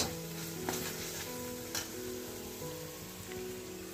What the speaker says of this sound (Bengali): আমি মশলাটা কষে নিচ্ছি